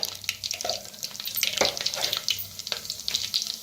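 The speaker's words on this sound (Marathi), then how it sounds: "तेल चांगलं गरम झालंय. त्याच्यात टाकूया मोहरी." Half a spoon each of mustard seeds and cumin crackle and spit in hot oil, quick sharp pops over a bright continuous sizzle, close and fairly loud with no talking.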